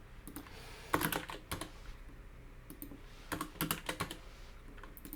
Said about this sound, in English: Trying to like do keyboard stuff in gloves.